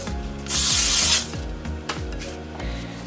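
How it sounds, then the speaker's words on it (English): Hairspray hisses out in one loud, sustained aerosol burst onto hair while styling a sleek body-wave drawstring ponytail. Quieter rubbing and handling noises follow the burst. "So now I'm just gonna spray some on the hair"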